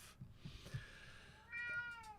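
A cat meows softly, making a couple of faint calls followed by a clearer meow near the end, with quiet room background and no talking.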